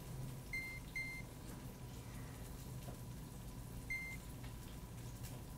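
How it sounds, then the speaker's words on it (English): A kitchen timer being set in a kitchen gives short electronic beeps: two quick high beeps close together, then one more a few seconds later. They are fairly faint over a low steady hum, with no talk. "So I'm going to set a kitchen timer for"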